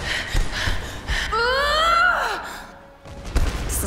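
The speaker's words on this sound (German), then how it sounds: "Irgendwie keucht sie auf einmal mega laut." Lara Croft breathes loudly in a Tomb Raider game, with breathy sighs and gasps, then a drawn-out pitched gasping breath in the middle, heard close and prominent over faint game sounds.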